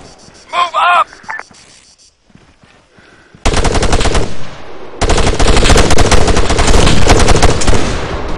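Machine gun fire in the military shooter ArmA 3, loud sustained bursts of rapid automatic shots, with one stretch of fire followed by an even denser stream, preceded by a quiet pause and shouted voices.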